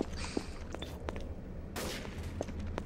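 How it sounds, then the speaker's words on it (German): Gunfire in the online game Trouble in Terrorist Town, heard as a few scattered, muffled shots at a distance rather than a sustained volley, with no talk over them. "ich höre Schüsse, aber von wo und wer?"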